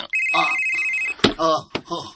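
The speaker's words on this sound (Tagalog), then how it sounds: "Ang imong cellphone ng mihilak di ha." Cellphone ringing indoors, a repeating electronic ring tone heard close, with people talking over and between the rings.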